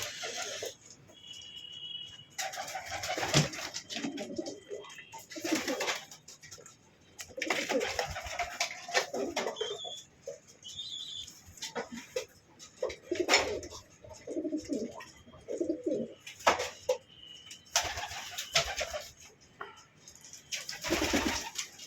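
A pair of ordinary pigeons kept in a cage coo repeatedly, soft low throaty calls in irregular bursts close by, with occasional faint chirps in the background.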